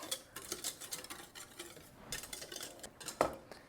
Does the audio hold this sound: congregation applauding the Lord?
no